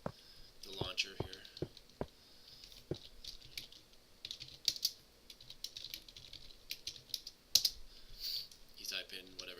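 Fast, uneven bursts of clicking as keys are tapped on a computer keyboard at a Minecraft subway station setup, close and fairly quiet, with soft talk mixed in.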